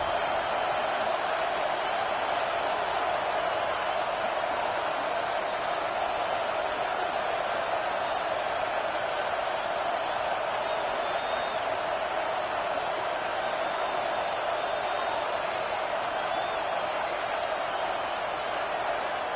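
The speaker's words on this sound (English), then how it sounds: "Listen to this crowd just shaking the girders of this place, trying to help their defense." A stadium crowd roars continuously at a football game, a dense steady wall of cheering noise sustained throughout, heard from within the stands.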